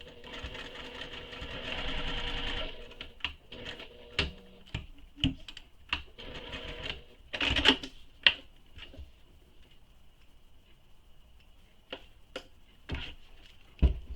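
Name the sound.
sewing machine stitching a tote bag seam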